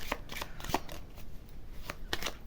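Tarot cards are shuffled and drawn for a reading: quick, close riffling and soft card slaps in irregular bursts, fairly quiet against a faint background.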